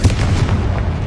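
A Confringo spell blast from Hogwarts Legacy: a heavy, booming burst with a deep low rumble that carries for about a second, loud and close, with no voices.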